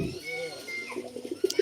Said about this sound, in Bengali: কবুতরটার ডাক শোনেন